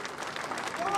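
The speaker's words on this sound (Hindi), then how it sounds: "एक बार जोरदार तालियों से मंजू जी का स्वागत और अभिनंदन कर।" Applause from a crowd at a BJP nomination rally in Jaipur, a steady dense patter of clapping filling the whole second, with a faint tone rising near the end.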